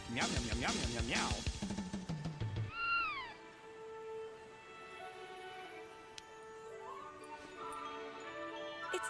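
Cat meows from the Final Fantasy X-2 video game, a series of voiced mewing calls over game music, then a rising electronic tone and soft background music; a voice repeats meow-like sounds in an imitation.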